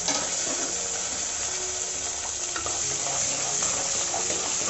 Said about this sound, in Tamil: சோ இது எண்ணெயில கொஞ்ச நேர பொரியட்டும்